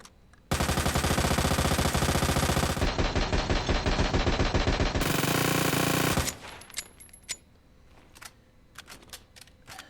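Leon's submachine gun in Resident Evil 2 Remake fires in long, loud, rapid-fire bursts for several seconds, then cuts off, leaving scattered clicks and faint clatter.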